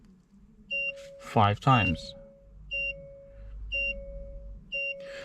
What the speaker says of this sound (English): It's now going to beep